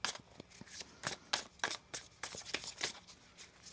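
Tarot cards being shuffled by hand, a quick run of crisp riffling flicks and soft slaps repeating close by with no talk.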